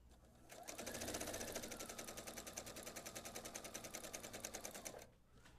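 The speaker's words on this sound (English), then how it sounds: "we're going to sew a 1/4 inch seam all the way down here" A sewing machine stitching a quarter-inch seam on fabric for a pillowcase, a fast steady mechanical rattle running close and continuous for about four seconds before stopping.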